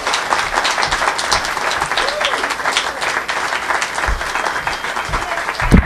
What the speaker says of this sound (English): A large round of applause for Jenn Palumbo